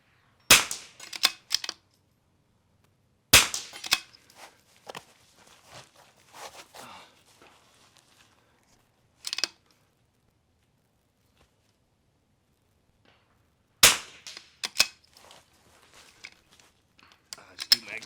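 Rifle shots fired through brush on an NRL22 match course, several sharp cracks spaced apart with quieter handling and footstep noises between them, fairly close and loud.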